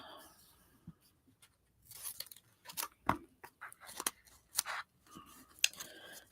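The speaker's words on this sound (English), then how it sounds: "scissors." Scissors snip through paper cut-outs for a mixed-media art journal collage, making quiet, intermittent crisp cuts with short pauses between them and no talking.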